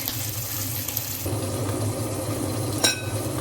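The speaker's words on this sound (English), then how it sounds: "So we already put the bacon, guys. We'll wait until it's cooked." Bacon fries in a pan during a breakfast cook in Ceduna, South Australia, giving a steady, close sizzle throughout, with a short clatter near the end.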